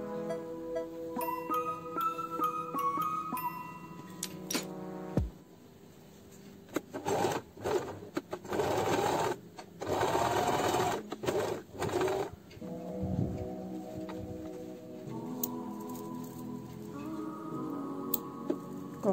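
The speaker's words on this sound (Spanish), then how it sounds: "Cosemos a menos de un centímetro, dejando un espacio de 3 centímetros sin coser." A sewing machine stitches cloth for a fabric phone cushion, running in several bursts of rapid mechanical clatter, close and clear, with pauses and quieter handling between runs.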